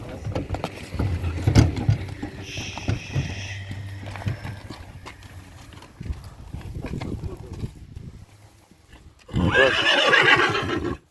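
A mare whinnies loudly near the end, after hoof clops and shuffling movement nearby, with a low mechanical hum in the background.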